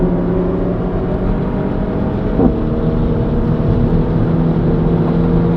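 A turbocharged 280bhp SEAT Leon Cupra accelerates hard on a race track, heard as a steady, loud, low engine drone from inside the cabin with no talking.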